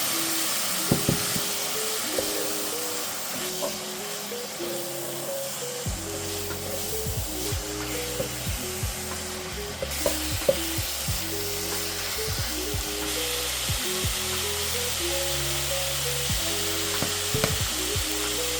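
Chopped onion and chicken giblets sizzle steadily in a frying pan for Albanian chicken, with a continuous close hiss, scattered pops and occasional stirring knocks, no talking.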